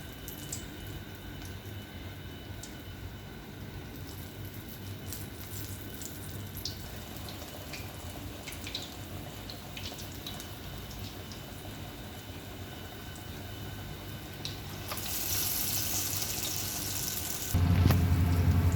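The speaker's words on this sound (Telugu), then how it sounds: "ఇక్కడ రెండో వాయి కూడా వేగుతున్నాయి" Black chickpea vadas deep-frying in oil over a medium flame give a steady, faint, bubbling sizzle throughout, growing louder and harsher in the last few seconds.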